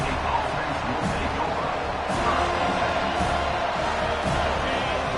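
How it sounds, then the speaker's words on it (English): A stadium crowd at a football game roars steadily and loudly, a dense sustained wash of cheering and shouting that fills the space without letting up. "This crowd, full throat, splitting the eardrums and letting them know it's going to be a long day."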